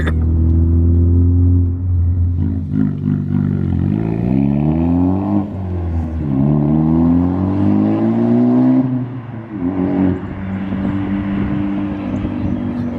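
A Ford Focus ST drives past close by, its engine rumble rising and swelling as it approaches, then the pitch bends downward as it goes by. Another rise in engine tone follows before the sound settles into a steady drone.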